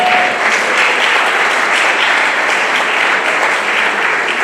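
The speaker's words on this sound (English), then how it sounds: "That's a round of applause." A crowd applauds steadily at a 75th anniversary celebration as an award is presented to a founding family, dense clapping sustained throughout at full volume with no talk over it.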